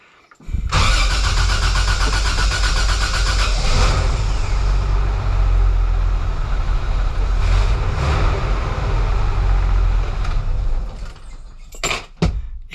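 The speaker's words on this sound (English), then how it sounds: "hear the awesome Honda Civic sound starter for an FJ40" A gear reduction starter motor on a 1978 Toyota FJ40 Land Cruiser whirs and cranks the engine steadily for about ten seconds, loud and close, then stops with a few clicks.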